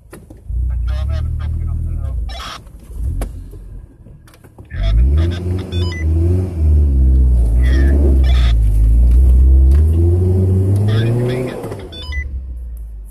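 Off-road vehicle on snow wheeling, revving hard and struggling up an icy snow hill, its engine rising and falling in repeated surges with loud sustained strain in the second half, voices talking briefly between.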